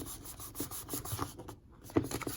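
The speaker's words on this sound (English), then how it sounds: "Go ahead and fold on the 1 inch score mark" Cardstock being folded along a 1 inch score mark for a treat box, giving soft rubbing and creasing sounds with a few small taps, close by and fairly quiet, with no talking.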